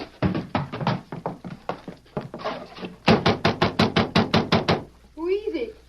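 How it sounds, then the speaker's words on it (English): Rapid sharp knocks strike a ranch house door in a radio drama, falling in several quick clusters, the last a long even run of about a dozen raps, with a brief voice near the end. "they quickly hitched their horses and knocked on the door"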